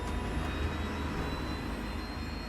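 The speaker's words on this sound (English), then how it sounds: "Engine 1 start." Aircraft engine number 1 spinning up at start, a steady broadband rumbling whine with faint tonal hum, moderately distant and continuous.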